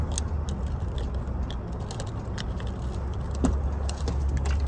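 Keys jingle and clink in short bursts over a low rumbling engine-like background, close by.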